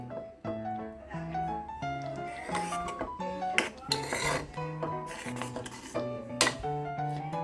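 A metal spoon clinks and scrapes against a pot while ghee is stirred into wheat payasam (godhi kuttida payasa), with soft, irregular knocks and rings at low volume.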